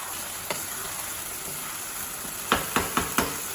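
Chicken korma cooking over a high flame, with a soft steady sizzle throughout and a few quick stirring scrapes near the end, heard close up.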